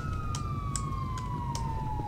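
A police car siren in the video game GTA V wails steadily in a continuous falling tone, fairly close, with no talk over it.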